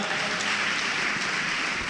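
A church audience at a sermon claps loudly and continuously, a dense, even wash of applause with no pauses and no voices above it.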